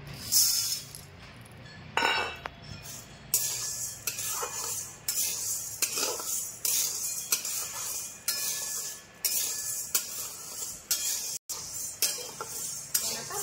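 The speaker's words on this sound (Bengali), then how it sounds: "সাবুটাকে এখন ভেজে নিব, গ্যাসটা সিম করে দিয়ে ভাজবো" Large-grain sago is stirred in a hot pan over low gas, with repeated scraping and clinking of a utensil against the pan in bursts over a soft sizzle, close and fairly quiet.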